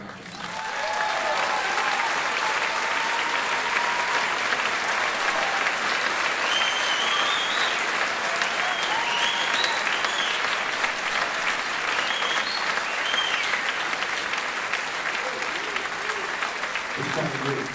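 Sustained applause from a large crowd at a school Christmas concert fills the space, steady and loud throughout, with some cheering and voices mixed in.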